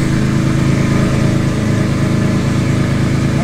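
Supercar engine running with its exhaust valves opened, a loud, steady low drone close by with no clear rises in pitch throughout.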